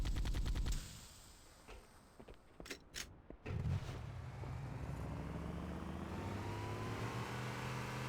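Warthog vehicle gun firing in Cursed Halo with a desert Warthog, a short burst of rapid shots followed by a few isolated bangs, then a steady rumbling engine drone running alone.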